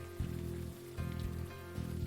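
Night rain in the video game Unavowed hisses steadily over a low, pulsing musical drone that swells in regular beats, with no voices.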